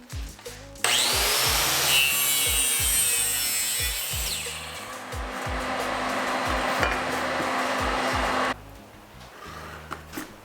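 A saw cuts wooden parts for a large wooden Gundam model, giving a loud, close, continuous buzzing rasp for about eight seconds, with a faint rhythmic thumping beneath and no speech.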